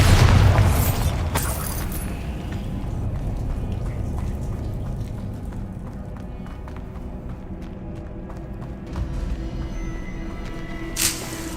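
A Bombarda blasting spell goes off in Hogwarts Legacy with a loud burst at the start. A long rumbling, crackling tail of falling debris follows, and another sharp burst comes near the end.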